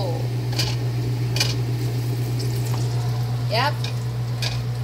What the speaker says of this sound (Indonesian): aku sedang menumis bumbu untuk soto